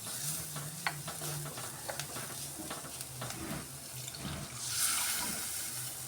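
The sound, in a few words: coconut milk poured into a pan of fish curry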